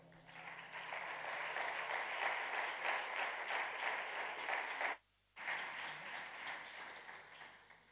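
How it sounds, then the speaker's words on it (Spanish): Audience applause at a flamenco festival, a steady burst of clapping from the crowd that cuts off abruptly for a moment and then resumes. "El aplauso para Rocío Hurtado"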